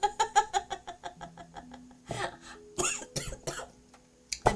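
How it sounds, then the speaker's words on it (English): A woman coughs repeatedly in a quick, fairly close rhythmic series, then breaks into brief giggling and a few harsher coughs near the end. "I'm so excited I'm making myself cough."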